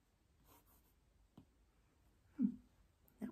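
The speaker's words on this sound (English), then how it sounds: "I'm just going to do a little bit of writing" A pen writing on paper, quiet and close in a hushed setting, with a few short scratchy strokes and taps spaced out over a few seconds.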